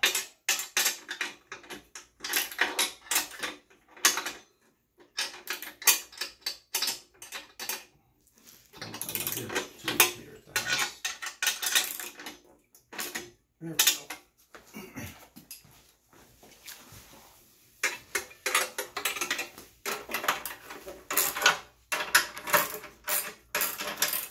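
A cheap ratchet wrench tightens the mainframe bolts on an Axxion rocker plate for a Wahoo Kickr trainer, giving repeated rapid clicking bursts in bouts with short pauses, close and moderately loud, with no talking.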